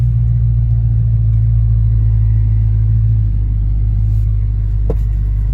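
Dodge Charger SRT Hellcat with 6-piston Brembo brakes driving on the road, a loud, steady low engine drone and rumble from inside the car, holding even and then easing slightly.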